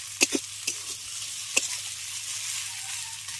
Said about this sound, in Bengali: নারকেল কোড়াটাকেও হালকা করে মশলার সঙ্গে ভেজে নেব।